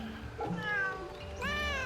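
A cat meows twice while being petted in Fate/Samurai Remnant, set in Edo-era villages; two drawn-out, rising tonal calls, the second higher and brighter, heard close over a low game ambience.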